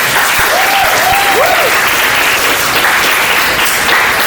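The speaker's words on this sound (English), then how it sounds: "I want you all to give yourself a round of applause for getting into BSEC" An audience at a keynote address claps and applauds loudly and steadily throughout, with a few faint voices among the clapping.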